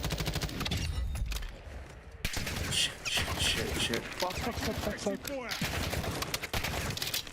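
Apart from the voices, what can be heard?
gunfire in Call of Duty Black Ops 6 video game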